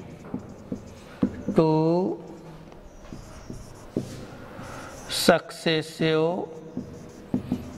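Marker or chalk scratching on a board in a physics lesson, short strokes heard intermittently under a man's steady explanatory speech.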